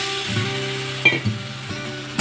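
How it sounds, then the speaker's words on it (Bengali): A spice masala with turmeric and chili powder frying in a pan while being stirred, a soft steady sizzle broken by a few scraping knocks of the spoon, close and fairly quiet. "মশলাটা ভালো করে নেড়ে চেড়ে কষিয়ে নেব"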